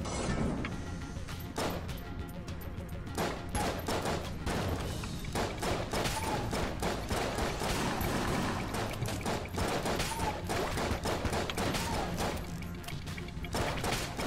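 Rapid bursts of gunfire-like blasts from bullet cannons in a trap room in Enter the Gungeon repeat throughout, dense cracks and booms firing in quick succession, loud and continuous with little pause.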